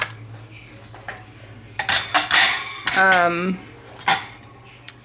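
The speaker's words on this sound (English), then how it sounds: "So I'm just gonna slice it like I would bread, I suppose." A still-warm bread-maker loaf, baked on an ultra-fast cycle in a Wolfgang Puck 2-pound machine, is sliced with a knife, giving close scraping and clinking strokes in several short bursts against a faint steady hum.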